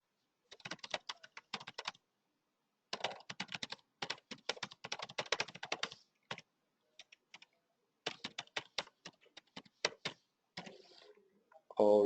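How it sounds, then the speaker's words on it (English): Typing on a computer keyboard: close, crisp clusters of rapid key clicks in bursts separated by short silent pauses, with a brief louder sound at the very end. "Let me just type."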